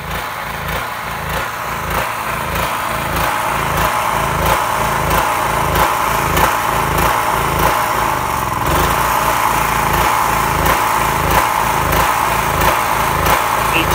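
A portable generator's small engine runs steadily and loudly up close, a constant buzzing drone with a fast, even pulse throughout.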